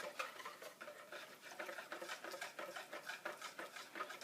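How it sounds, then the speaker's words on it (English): Alcohol being stirred into a homemade gelli plate mixture in a cup, giving soft, rapid, rhythmic scraping and swishing strokes, close and quiet. "Give that a stir."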